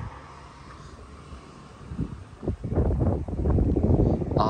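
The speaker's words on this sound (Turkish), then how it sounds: "Dışarıda rüzgar." Gusty wind outside at Filyos harbour in Turkey during a storm buffets the microphone, rising from a low rumble to strong, rushing blasts toward the end.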